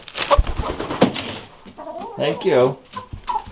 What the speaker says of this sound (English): What do you think of all them chickens